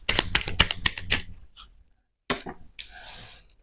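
Tarot cards are shuffled in quick riffling bursts close by, a dry papery flutter that stops for a short silence, then resumes with a few more brisk shuffles.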